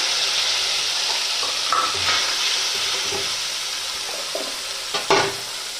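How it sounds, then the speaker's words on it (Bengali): Onion paste hitting hot oil in a pan after eggs were fried in it, a steady loud sizzle and hiss with a few soft stirring knocks and one sharp clink near the end. "এবার আমি ওই তেলের মধ্যে দিয়ে দিচ্ছি পেঁয়াজ বাটা"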